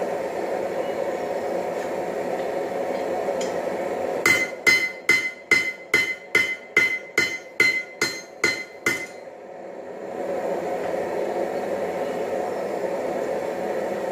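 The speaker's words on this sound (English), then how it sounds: "the butt end of an anvil is loud" About a dozen loud, ringing metallic hammer strikes in a steady rhythm on the butt end of an anvil while making tongs, near and sharp, over a constant engine hum.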